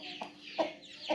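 An Aseel hen clucks three times in short, evenly spaced calls, close by and fairly soft against a quiet background.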